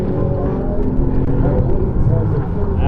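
A pro touring truck works through an autocross slalom, its engine droning and surging steadily from a moderate distance, with an announcer talking over it throughout.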